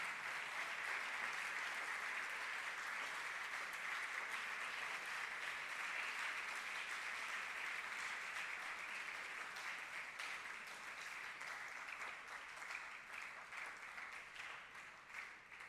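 A large hall audience at a university launch event for the Aditya L1 solar mission gives a long, even round of applause, a dense steady roar of clapping that thins slightly toward the end, heard from a distance.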